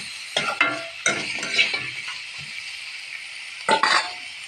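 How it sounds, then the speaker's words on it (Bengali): Pigeon meat being stirred in a frying pan, with a steady sizzle under several sharp scraping strokes of a utensil against the pan, close and moderately loud, no speech. "মাংসটা দিয়ে কিছুক্ষণ এরকম নাড়াচাড়া দিতে হবে যাতে জিনিসটা মিশে যায়।"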